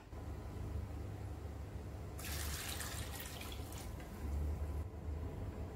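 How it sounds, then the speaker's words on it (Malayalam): Water pours into a pot holding chopped carrot, Chinese potato and yam, a soft splashing stream rising over a quiet background for a couple of seconds before easing off. "ഇത് വേവാൻ ആവശ്യത്തിനുള്ള വെള്ളവും ചേർത്ത് കൊടുക്കാം"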